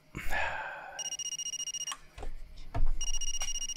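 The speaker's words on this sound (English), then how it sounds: "I forgot how to answer the phone, to be honest with you." A telephone ringing in the Far Cry 2 video game, two bursts of an electronic ring with a gap between them, over a dog barking and scattered game sounds.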